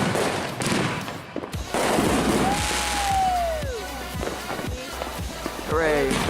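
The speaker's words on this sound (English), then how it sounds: "Focus on the fireworks." New Year's Eve fireworks bursting repeatedly in sharp booms and crackles, with a whistling rocket rising and fading, while people talk nearby.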